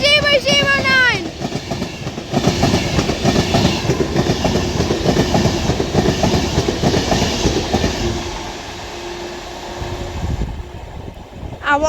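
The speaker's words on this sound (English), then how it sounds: "through is going to be an Avanti West Coast Class 390 Pendolino with the 1350 Avanti West Coast service from London Euston to Liverpool Lime Street" An Avanti West Coast Class 390 Pendolino passes through Liverpool South Parkway station, a loud rushing roar with rapid clickety-clack of wheels over rail joints, preceded by a brief rising horn-like tone and fading slightly toward the end; a voice talks alongside.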